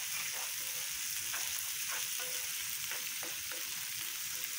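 Okra and peanuts fry in a pan with a soft, even sizzle and a few light scraping taps partway through, fairly quiet and close with no speech.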